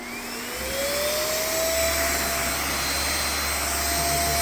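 A Raycop Lite handheld vacuum cleaner switches on and runs with a loud, steady whine whose pitch rises as the motor spins up, then holds a constant drone throughout.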